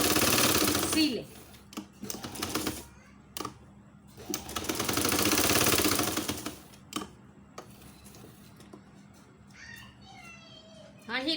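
A sewing machine stitches the fabric seams of a handmade Humpty Dumpty stuffed toy, running in several loud bursts of whirring with pauses between them, and speech is heard in the quieter gaps.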